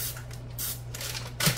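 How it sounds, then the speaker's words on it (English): Cooking spray gives a short, close hiss near the end while it is sprayed onto a pan to hold parchment paper down for sourdough discard brownies, set against a steady low kitchen hum. "We're just going to spray that"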